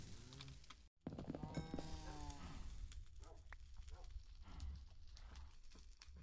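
Blocky cattle in the modded Minecraft pack SevTech Ages give several game-style moos with harmonic tones, alongside clip-clop hoof sounds and background game noise; voices can be heard at times.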